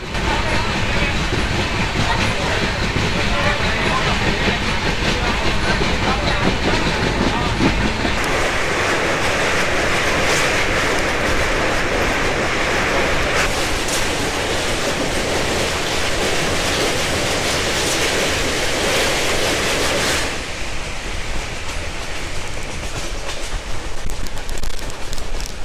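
Kandari Express train running at speed through Nandakumar station, heard from aboard as a steady loud rumble and rattle of wheels on rails, sustained throughout with shifts in tone as it passes.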